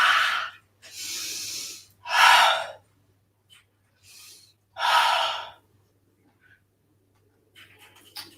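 Breathy, audible yawns during a yoga class: several long, airy exhalations in a row with gaps of quiet between, close and fairly loud, ending in softer breaths.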